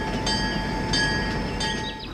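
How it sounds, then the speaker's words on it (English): A train rushes past at high speed with a continuous loud rumble and rail noise, alone with no voices, sounding close. "The train is moving at a high speed."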